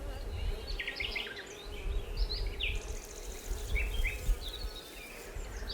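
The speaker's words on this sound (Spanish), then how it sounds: "Las abejas seguían zumbando," Bees buzz continuously in a dense, droning swarm, with scattered higher chirps or whines flickering above the hum.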